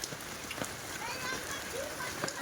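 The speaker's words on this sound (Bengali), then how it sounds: "পুরো রাস্তা ভর্তি হয়ে গেছে শিল পড়ে" Hailstones falling onto a road during a storm, a soft continuous patter with scattered faint ticks, fairly quiet and steady, with a voice speaking over it.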